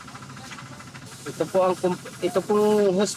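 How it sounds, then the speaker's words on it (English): Compressed air hisses steadily through a breathing hose fed by a compressor at an illegal gold mine in the Philippines. The close, constant hiss runs under someone speaking. "This hose is connected to a compressor, so I can breathe underwater."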